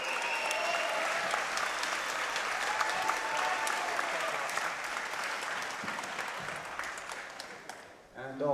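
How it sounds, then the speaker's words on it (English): A crowd at a boxing event applauds two fighters after their bout, sustained clapping and cheering that holds steady then thins near the end, with an announcer's voice over it. "A round of applause for these gladiators."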